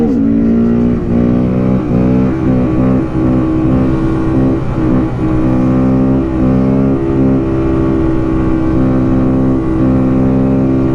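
A Honda Grom motorcycle engine revs hard and steadily uphill on a mountain road, a loud, sustained high-RPM buzz with a strong, even drone that barely varies across the ride.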